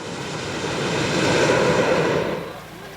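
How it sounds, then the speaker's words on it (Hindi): Two hot air balloon burners firing in a forest setting, a loud, sustained roaring whoosh that swells over about two seconds and then eases off, with no talk. "दोनों बर्नर दरअसल गुब्बारे के इंजन जैसे हैं, जिनसे आग की करीब 20 फुट ऊंची लपटें निकलती हैं"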